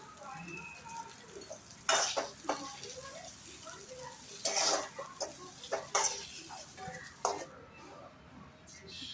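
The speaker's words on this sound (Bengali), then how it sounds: "এবার এই তেলের মধ্যে আমি বেগুনগুলো ভেজে নেব।" Eggplant pieces fry in the same oil just used for tangra fish, giving a quiet, steady sizzle. Sharper crackles and stirring clatters break through at intervals, close by, with a voice speaking over parts of it.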